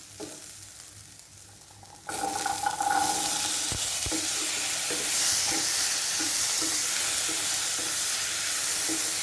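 Boiled butter beans tipped into coconut masala frying in a pan, a sudden burst of loud close sizzling that continues steadily under occasional spoon scrapes and taps.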